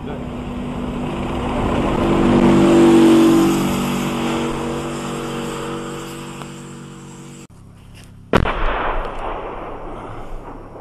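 A heavy rumbling boom swells and fades, followed by a sharp loud blast of artillery fire in open air during a street battle for Debaltseve in the war in Ukraine.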